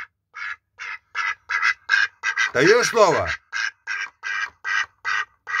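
A pet duck squawks in a rapid run of loud, harsh quacks, a dozen or so close together, with one longer raspy squawk in the middle and a person briefly speaking.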